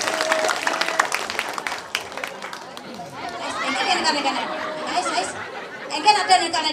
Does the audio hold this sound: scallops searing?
no